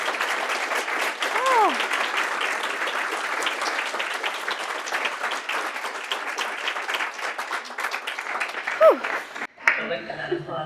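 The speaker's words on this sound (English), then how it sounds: "I like that applause says a lot." An audience in a university hall applauds after a PhD defense presentation, sustained dense clapping that runs steadily for several seconds, with brief voices and whistles poking through before it cuts off near the end.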